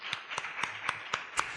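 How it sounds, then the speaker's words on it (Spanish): Audience applause at a talk on magical beliefs in Cantabria, heard as a few evenly spaced claps, about six in a row, moderately loud and close with a quiet room behind. "vamos a dar un aplauso a José María Pérez, compañero del colegio"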